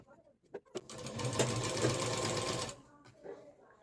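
A sewing machine stitches the lining of a handmade potli bag in one steady, whirring run of about two seconds, close and clear, with quiet clicks and handling sounds before and after.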